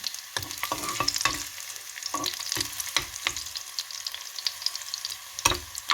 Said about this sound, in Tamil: பாருங்க உள்ளி வதங்கட்டும்